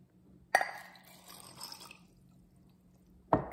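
Water goes into a mug of macaroni: a sharp clink, then a short, faint pour and trickle, then another sharp clink against the mug, quiet and close.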